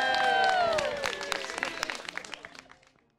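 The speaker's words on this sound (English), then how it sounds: "Another round of applause for Chelsea." Audience applause at a green-themed flashmob show, a dense burst of clapping with cheering that thins out into scattered claps before fading, with a voice briefly over the start.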